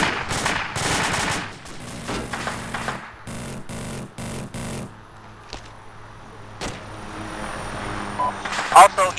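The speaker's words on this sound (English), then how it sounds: "Just heard freaking AK fire." Gunfire from an AK rifle in a video game, sharp loud shots and short bursts spaced irregularly against a quieter battlefield background with distant rumbling.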